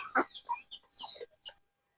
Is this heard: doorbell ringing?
no